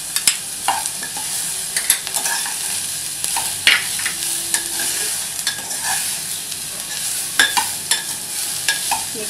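Carrot, cabbage and cauliflower being stir-fried for vegetable chop suey, steady close sizzling broken by irregular scrapes and knocks of a spatula tossing the vegetables, with no talking.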